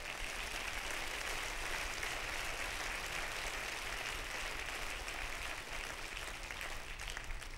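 Faint, steady clapping from a church congregation during a sermon rises as a continuous hiss of many hands, heard from a distance and without voices on top.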